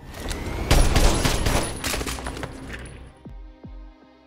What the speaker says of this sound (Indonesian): terlihat Mayor Bidwell sedang berbaku tembak dengan ketua teroris